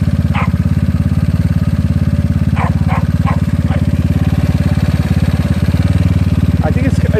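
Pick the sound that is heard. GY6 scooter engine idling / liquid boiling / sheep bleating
GY6 scooter engine idling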